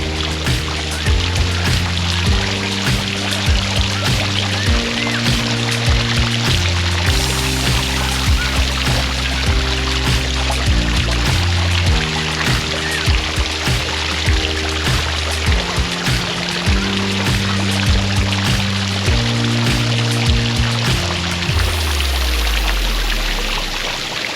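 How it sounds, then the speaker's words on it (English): Continuous rushing, gurgling water from a park fountain in Regent's Park, London, fills the scene, with steady instrumental music playing on top throughout. "The sound of gurgling water"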